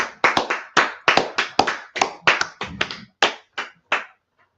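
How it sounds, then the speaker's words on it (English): A small class claps together in uneven bursts, about a dozen sharp, close handclap volleys that thin out and stop near the end. "Let's clap it up for class,"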